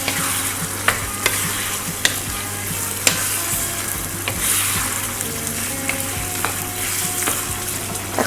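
Pork menudo with black pepper being stirred in a frying pan: a steady close sizzle with sharp clicks of the utensil against the pan every second or so.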